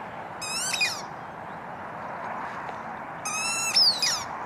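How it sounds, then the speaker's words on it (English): A squeaky dog toy, handed to a husky as a gift during an unboxing in the rain, gives two short high squeaks a few seconds apart over a steady wash of rain noise. "And it squeaks."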